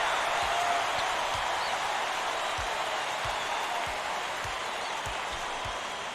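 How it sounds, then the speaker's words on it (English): A college basketball crowd roars during a March Madness first-round game between Hofstra and Duke, with a broad, steady wall of cheering and scattered low thumps underneath, loud and distant-sounding. "Listen to the crowd, Vern."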